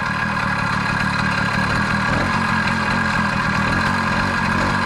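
An old motorbike's engine idles steadily after a cold start, with a continuous, loud, even mid-low rumble and a constant tone that holds throughout.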